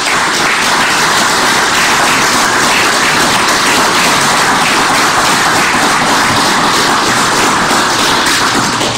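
Sustained, dense applause from a crowd honoring PDVSA oil company workers in Venezuela, loud and steady without a break for the whole stretch.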